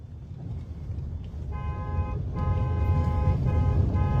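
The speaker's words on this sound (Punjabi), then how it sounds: "ਹਾਰਨ ਤੇ ਹੱਥ ਰੱਖ ਹਾਰਨ ਤੇ ਹੱਥ ਰੱਖ" A car horn honks in several short bursts over a steady low traffic rumble, loud and nearby.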